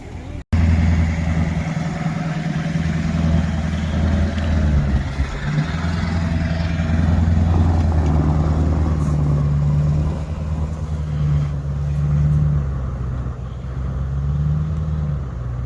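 Old White 2-105 truck, idle for 20 years, its engine running loud and close with a steady low rumble that rises and falls slightly as it starts to move.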